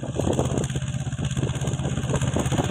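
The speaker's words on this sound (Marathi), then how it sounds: "हे महिंद्राचं छोटं ट्रॅक्टर." A small Mahindra tractor runs steadily while sowing Mahalaxmi 555 soybean seed in a field, its engine a continuous loud rumble with a pulsing idle-like beat and no talk.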